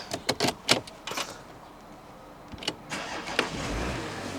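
Porsche Cayenne 958 engine cranking and catching, a brief starter burst followed by a steady idle rumble, heard from inside the car with no talk.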